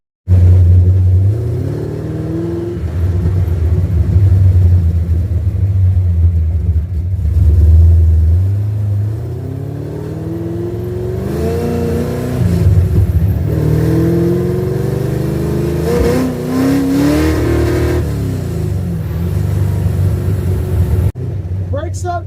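An old car parked since 1999 idles with a deep rumble, then revs repeatedly on its first drive in 27 years, the engine pitch rising and falling in long sweeps; someone talks over it at times.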